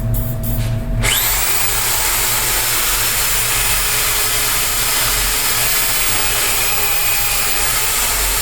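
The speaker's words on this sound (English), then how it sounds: "before drilling my 5/16 inch hole" A drill boring a 5/16 inch hole in steel for a truck cargo rack, a loud steady motor whine and grinding that holds continuously after a short start, close up and with no voices.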